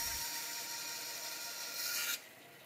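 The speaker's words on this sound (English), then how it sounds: "I'm just using my bandsaw." A bandsaw cuts through wood for a dovetail joint, giving a steady rasping buzz that runs for about two seconds, then stops abruptly, leaving only a fainter machine hum behind.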